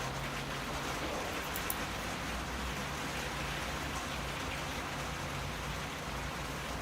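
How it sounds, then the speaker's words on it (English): Steady rain patters on a greenhouse roof, a dense continuous hiss of drops with no break and nobody speaking. "Oh, it's starting to rain again."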